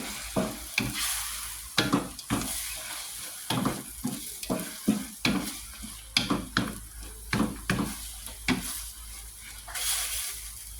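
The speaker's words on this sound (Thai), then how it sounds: "ใส่กุ้งลงไปะคะ ใส่พริกเผ็ดลงไปค่ะ กุ้งกับพริกเผ็ดพร้อมกันเลยค่ะ" Shrimp and hot chili stir-fried in a pan, with repeated rhythmic spatula scrapes and clanks over a continuous sizzle, close and steady throughout.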